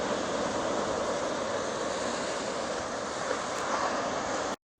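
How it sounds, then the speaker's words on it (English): Ocean waves on a beach make a steady, broad roar of surf mixed with wind, heard from a distance without distinct individual breakers, then cut off abruptly at the end. "Look at those waves though."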